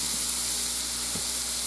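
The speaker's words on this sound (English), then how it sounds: "Oh, you hear that sizzle? That sizzle's amazing." A steak sears in a hot pan with a steady, close sizzle and hiss that stays even throughout, with a couple of faint soft knocks and no voices.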